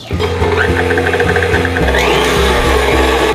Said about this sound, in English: We are going to cream the butter and the cream cheese until fluffy.